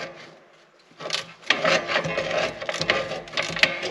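A socket wrench tightens a nut on a bolt while a garden frame for carrot sowing is assembled, giving close, dry, rasping ratchet clicks and metal scraping that start quietly and grow louder and denser.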